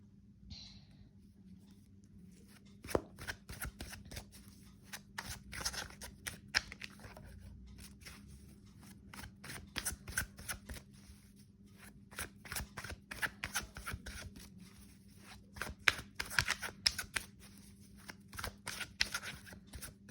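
Tarot cards being shuffled and pulled from the deck give repeated bursts of quick riffling flutters and soft slaps, close and fairly quiet, with short pauses between rounds and no talking.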